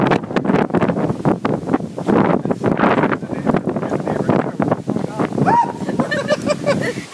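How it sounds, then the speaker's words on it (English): Very high wind buffets the microphone during a stormy outdoor live report, loud roaring gusts that surge and fall, with bits of voices breaking through near the end. "we're experiencing very high winds"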